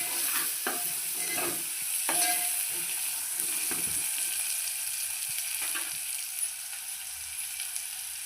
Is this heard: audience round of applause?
no